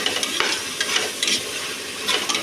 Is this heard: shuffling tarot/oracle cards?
no